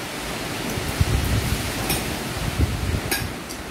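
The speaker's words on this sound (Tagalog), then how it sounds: "Lakas ng hangin." Strong wind from Typhoon Paeng in Occidental Mindoro, Philippines, a loud, constant roaring rush that buffets the microphone in a few heavier gusts.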